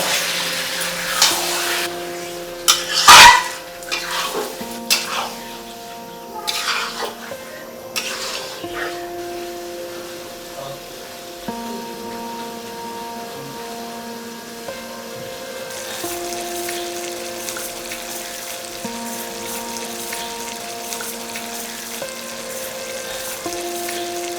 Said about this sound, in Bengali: এবার মটনগুলো দিয়ে আমি ভালো করে নাড়াচাড়া করে মশলার সাথে মিক্স করে দেব